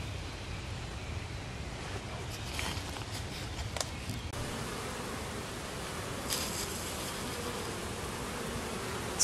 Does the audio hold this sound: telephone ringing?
no